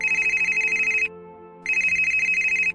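A keypad mobile phone call rings out in two loud electronic bursts separated by a brief quiet gap, each burst a bright pulsing tone heard up close and alone.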